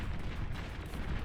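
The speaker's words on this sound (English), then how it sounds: "Some very, very good tumbleweed explosions here, and that massively turns the tide" Tumbleweed explosions rumble in the real-time strategy game Beyond All Reason, during a 1v1 match on the Canis River map. Dense, overlapping low booms and crackling blasts roll continuously, fairly loud, with no speech.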